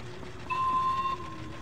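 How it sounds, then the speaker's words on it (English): A train moving in the video game Little Nightmares: a low rumbling rail drone runs throughout, joined midway by a sustained whistle-like tone that rises above it for about half a second, then fades back to the rumble. "What the hell is that that I'm hearing? Oh, it's a choo-choo train!"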